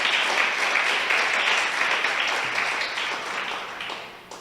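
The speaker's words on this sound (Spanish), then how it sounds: "Denle un aplauso al Señor. Que sea fuerte si es para el Señor." Steady applause from a church congregation, loud and sustained throughout, slowly tapering toward the end.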